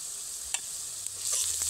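Onions with turmeric, red chilli and Kashmiri chilli powders frying in a pan, a steady soft sizzle with a few faint stirring scrapes, close and alone.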